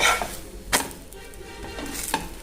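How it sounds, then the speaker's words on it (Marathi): A paratha fries in oil in a pan over medium gas, giving a soft steady sizzle with a few scattered clicks and taps of a utensil. "हा मीडियम गॅसवरती भाजून घ्यायचा"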